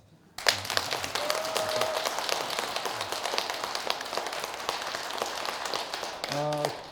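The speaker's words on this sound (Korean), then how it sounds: "박수 소리가 좀 적은 것 같은데 좀 더 크게 한번." A Buddhist temple congregation in Seoul claps louder for the head monk, a dense, sustained round of applause that starts abruptly after a brief pause and carries on steadily; a voice breaks in near the end.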